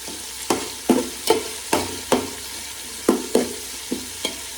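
Vegetables fry in a pan with a soft constant sizzle under about ten evenly spaced, fairly loud knocks and scrapes of a spatula stirring them, close by and without speech.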